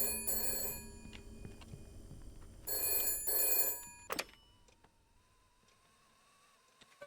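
In the Shadows of Doubt video game, a telephone rings in bursts of bright metallic bell trills separated by pauses, followed by a short clunk and then quiet room tone.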